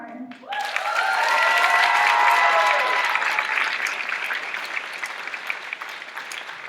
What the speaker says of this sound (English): I want you all to help me give them another round of applause